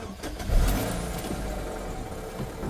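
A Chevrolet Cobalt's 2.2-liter Ecotec engine cranks and catches, then settles into a steady low idle rumble, close by, with no voices.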